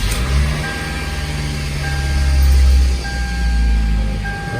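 A Toyota Camry's engine idles steadily with a low, even rumble and faint whine, the car cold with its A/C being recharged with R134A refrigerant, heard close and alone.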